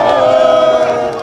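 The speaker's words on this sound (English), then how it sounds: "Right Honorable Oborevwori, received a rousing welcome from a MAMODE crowd who could not contain their excitement" A lively crowd cheers and shouts with excitement at a road construction flag-off ceremony by the Delta State governor, a dense, steady roar of many voices that stays loud throughout the short moment.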